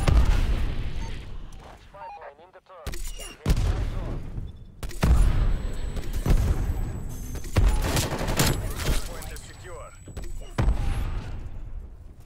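Black Ops Cold War gameplay is filled with loud, dense gunfire: repeated bursts and volleys of automatic fire with heavy booms, broken by brief lulls.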